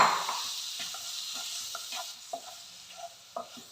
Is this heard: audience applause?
no